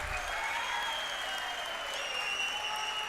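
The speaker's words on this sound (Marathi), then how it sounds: "टाळ्या वाजत राहिल्या पाहिजेत टाळ्या वाजत राहिल्या पाहिजेत" Sustained applause fills the clip at a political rally of an opposition alliance in Amravati, a dense crowd clapping steadily and loudly throughout with no talk.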